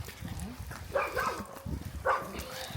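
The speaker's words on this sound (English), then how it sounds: "Nice day when the dog's barking all day long." A big German Shepherd chained down an alley barks twice, about a second apart, over outdoor street ambience in Georgia.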